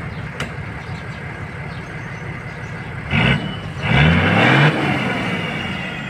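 A Toyota Land Cruiser 4.2L diesel engine fitted with an HHO kit idles nearby, then is revved twice, the second rev louder and longer with a rising engine note before settling back.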